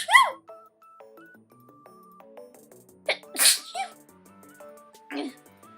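A sudden, loud sneeze bursts out at the very start, followed by quiet tones and a few shorter breathy bursts later on.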